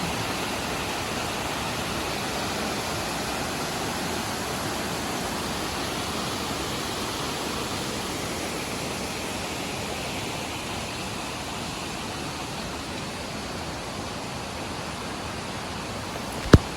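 Water falls from a height into a resort swimming pool, making a steady, close, full rushing hiss that stays even throughout with no voices, ending with a brief sharp click.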